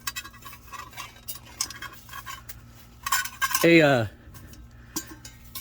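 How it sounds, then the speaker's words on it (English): Titanium long sporks clinking and rattling as they are handled, light metallic taps scattered over quiet room tone, with one sharp scraping, squealing metal sound in the middle; no talk over it. "I really like these titanium long sporks."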